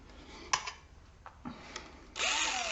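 A few short clicks and bumps, then a power drill whirs up and runs steadily, close by and fairly loud.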